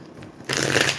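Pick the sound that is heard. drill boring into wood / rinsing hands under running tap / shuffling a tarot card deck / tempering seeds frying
shuffling a tarot card deck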